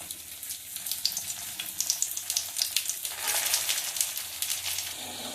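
Sweet paratha frying in hot oil on a griddle pan, a close, continuous sizzle with rapid crackling pops that swells midway.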